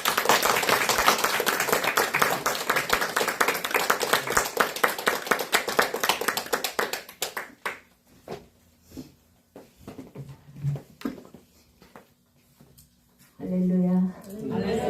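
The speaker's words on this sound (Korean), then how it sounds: "우리 환영하는 의미로서 목사님 나오실 때 우리 박수 치겠습니다." A church congregation claps at a Sunday worship service to welcome a pastor: dense, loud clapping for about seven seconds, then thinning to scattered claps, with a brief voice near the end.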